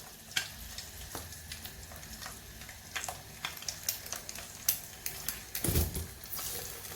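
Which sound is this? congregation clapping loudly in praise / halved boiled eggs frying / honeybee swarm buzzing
halved boiled eggs frying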